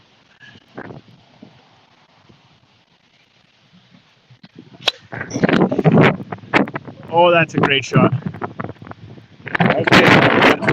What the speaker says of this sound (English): That wind gust hard and blew it back.